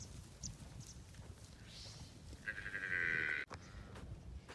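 A young goat or lamb gives one clear, loud bleat, with fainter bleats and herd noise in the background at an outdoor livestock gathering.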